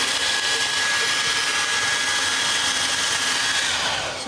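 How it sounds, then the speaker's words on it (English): A hairdryer blows continuously on epoxy resin art, a steady close whooshing roar with a thin whine running through it, alone without speech. "you can use the hairdryer to push the epoxy over the imperfection and make it look better"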